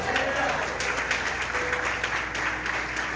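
A church congregation at a family service breaks into lively applause, a thick, sustained patter of many hands with some voices mixed into the crowd noise.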